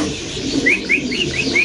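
Pigeons at a pigeon farm coo close by, a series of about five short, evenly spaced calls over a low background murmur.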